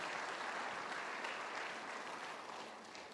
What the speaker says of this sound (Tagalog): Ayun ang pumalakpak mga tao rito.